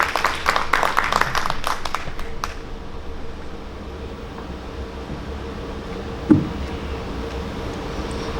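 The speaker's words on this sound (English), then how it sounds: "Give her an applause." An audience at a children's book launch presentation claps in a brief burst of applause that fades out after a couple of seconds, leaving quiet room tone.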